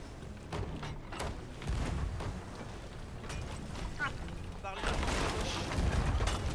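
Cannon fire from the pirate game Sea of Thieves, heavy booms and rumbling blasts going off amid ambient noise while people talk.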